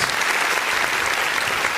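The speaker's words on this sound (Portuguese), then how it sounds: "Vamos aplaudir o nome do Senhor Jesus." A church congregation applauds during a worship service, loud, close and dense clapping filling the whole moment without pause.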